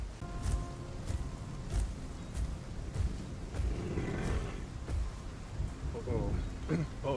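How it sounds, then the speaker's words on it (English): Stormy weather in the dinosaur survival game Path of Titans, with steady rain hiss and repeated deep rumbles and roars rolling through, fairly loud and continuous. "it just became a storm by the time we came out"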